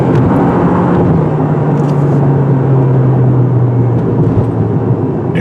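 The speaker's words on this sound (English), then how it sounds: "You get the droning noise because of the CVT transmission" A 2023 Toyota Prius Limited with a CVT, accelerating in sport mode, gives off a steady loud drone from inside the cabin with a sustained engine tone and constant road rumble. No one speaks.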